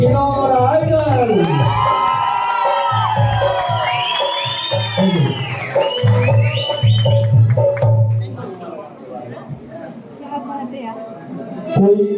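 Audience at the Kinnaur Idol singing contest cheers the second-place winner with whoops, yells and excited shouting from a crowd, loud at first and then breaking into scattered calls and chatter.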